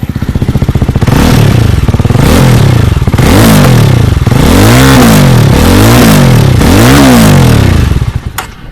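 Up close, a Jawa 350 motorcycle with a tuned exhaust revs repeatedly, about five loud throttle blips rising and falling in pitch over a rumbling idle, each swelling into a raspy roar before dropping back.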